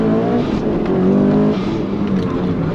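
A Mitsubishi Evo launches hard and accelerates, its engine loud and close with a steady rising roar and rich harmonics that hold through the run.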